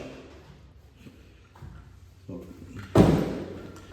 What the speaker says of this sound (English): as I go out to the service door